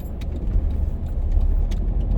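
A truck rolls along a street nearby, its deep engine rumble steady and fairly loud, swelling slightly as it goes, with faint light rattles on top and no speech.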